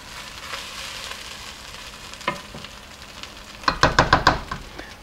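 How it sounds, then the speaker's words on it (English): Rice frying in tomato sauce in a pan, a soft steady sizzle with a scrape of the spoon, then a quick run of five or six louder stirring knocks and scrapes near the end, close up and without talk. "you want to stir it around, get it nice and fried"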